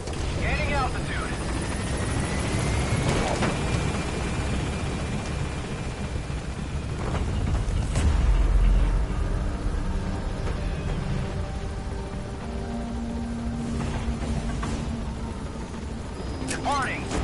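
A helicopter lifting off from a landing zone in Metal Gear Solid V, its rotor roar loud and steady throughout, with radio voices and music over it.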